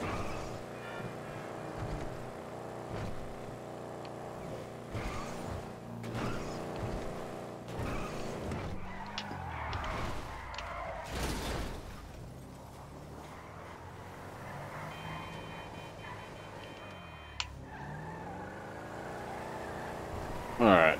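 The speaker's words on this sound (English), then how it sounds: "Felt like this car used to go faster." A car engine hums and revs while driving in Grand Theft Auto, a moderate mid-pitched drone that shifts as the vehicle speeds and slows, with someone talking over it.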